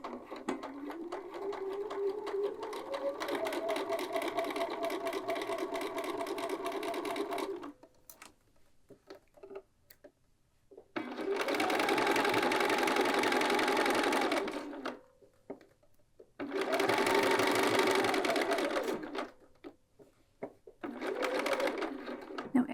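A sewing machine stitches a patch pocket onto a Tamarack quilted jacket in several steady, whirring runs of a few seconds each, separated by near-silent pauses, close and clear.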